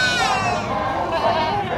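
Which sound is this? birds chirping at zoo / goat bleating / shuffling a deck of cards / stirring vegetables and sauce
goat bleating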